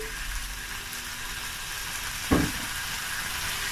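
Lamb meat sizzling and frying in a pan with spices for an Indian curry, a steady moderate hiss with one sharp burst as meat hits the hot pan partway through.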